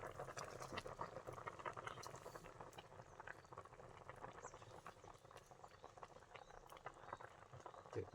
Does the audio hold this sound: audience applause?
no